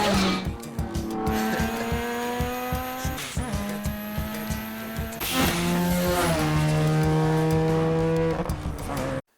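A heavily modified Veilside Mazda RX-7 in a film scene screams through hard acceleration with rising and falling engine tones, sharp gear changes and tire squeal, loud and close throughout.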